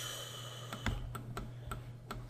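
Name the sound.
typing on a computer keyboard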